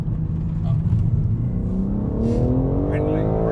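A BMW G82 M4 Competition engine revs and its pitch climbs as it drops two gears, with a smooth rising drone and faint speech partly underneath.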